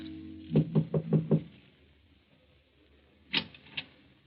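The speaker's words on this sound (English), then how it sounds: "knocks at the door of number 16 Rue de Roche" Radio drama sound effect of knocking at a Paris apartment door: a sharp burst of five evenly spaced knocks, then a pause and two more knocks, close and clear with no talking over them.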